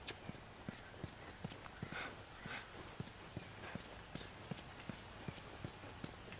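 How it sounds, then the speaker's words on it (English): Horse hooves clip-clop at a steady walking rhythm in the video game The Last of Us. The hoofbeats are faint but regular, set over a soft outdoor background hiss. "Ellie, can you come back with the horse?"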